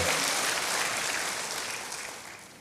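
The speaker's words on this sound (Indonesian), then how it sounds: "Berikan tepuk tangan sekali lagi bagi Tuhan" Congregation in an Indonesian church service clapping together, a dense, even wash of applause that slowly fades over a couple of seconds, with no voices over it.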